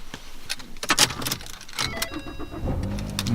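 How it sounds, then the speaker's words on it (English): A car engine cranks over with a rapid uneven churning, then catches and settles into a steady idle; close and fairly loud, with no talking. "Let's test it to see if this one will crank over and start."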